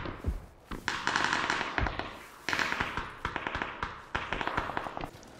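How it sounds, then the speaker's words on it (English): Rapid bursts of gunfire crackle through a video game battle royale match, clustered volleys of sharp cracks repeating in waves over steady background noise with no speech. "with Ibiza shooting there, it doesn't matter, they're clearing out that side even if it is vulnerable."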